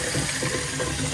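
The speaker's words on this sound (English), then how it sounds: "got the water running" Water runs steadily from a tap into a sink, a constant close rushing splash.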